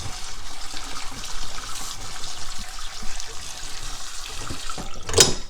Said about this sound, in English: we're going to rinse it with cold water to stop the cooking process